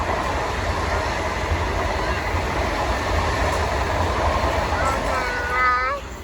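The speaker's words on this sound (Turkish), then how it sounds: "Bak tren de gitti." A train rumbles past nearby with a loud, continuous roar and a rhythmic rail clatter, and its wheels squeal briefly near the end as the noise starts to fade.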